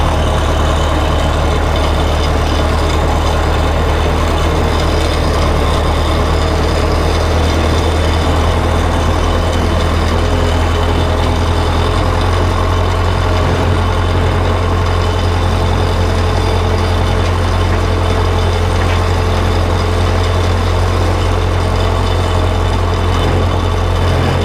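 Steady, loud low rumble of a Case 580 C backhoe diesel engine driving in second gear on a farm, a constant heavy drone that runs unbroken throughout.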